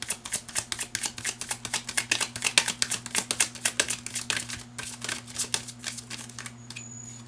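Tarot cards are shuffled in quick repeated riffling bursts, a steady crisp rhythm that tails off near the end, with no voices.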